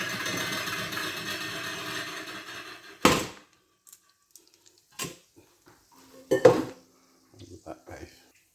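A metal pot is handled while frying oil is strained off during cooking, giving a few sharp clanks and knocks separated by quiet gaps after a stretch of background sizzle and noise.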